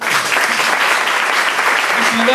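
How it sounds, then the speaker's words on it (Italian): Steady, dense applause from an audience at an Italian NABBA/WFF bodybuilding Grand Prix in Sestri Levante, greeting a multi-champion Miss Universe contestant; the clapping stays loud and continuous throughout, with faint voices underneath. "Applauso"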